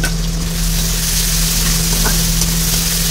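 Chopped onion fries in a pan with a steady, even sizzling hiss that carries on without a break, over a faint low hum.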